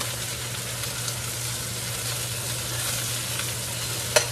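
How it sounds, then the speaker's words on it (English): Garlic sautéing alongside artichoke hearts searing in a pan, a steady close hiss of frying with a low background hum and one sharp clink near the end. "So now we're sauteing out that garlic. The artichoke hearts are getting nice to sear."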